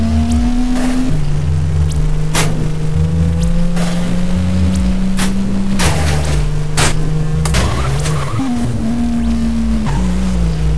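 Car engine in the racing video game Krautscape, a loud sustained synthetic drone that holds steady pitch, dips and climbs again, with sharp thuds and impacts scattered throughout.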